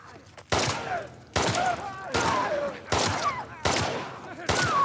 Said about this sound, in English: 3 pistol bullets is going to kill an infected runner, and I believe stalker as well.